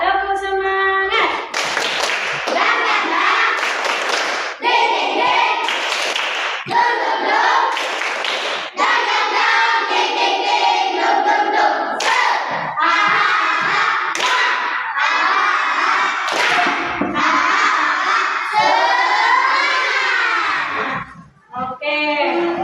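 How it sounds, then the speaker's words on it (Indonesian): A classroom of schoolchildren performs a 'tepuk semangat' spirit clap, loud and close, with rhythmic clapping patterns interleaved with energetic chanting voices for about twenty seconds. "Tepuk semangat."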